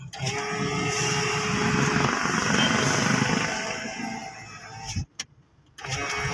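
A steady power window motor hum and whir in a Ford Everest runs loudly for several seconds, then cuts off abruptly with a few clicks and a short silence.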